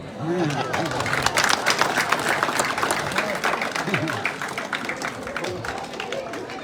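Applause breaks out at a village gathering held in a school courtyard, a sustained burst of many hands clapping with crowd chatter mixed in, rising and then tapering off slowly.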